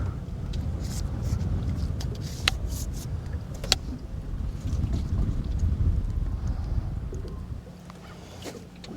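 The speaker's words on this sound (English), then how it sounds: "Oh, that wind's picking up." Steady wind gusts on open water during a fall catfish and white perch fishing trip, a constant low rumble of wind noise buffeting the microphone with a few faint clicks and no speech.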